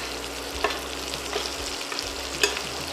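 A steak sizzles in a pan while foaming butter is spooned over it, giving a steady soft frying hiss with a few sharper spoon scrapes and splatters, fairly quiet and without talk.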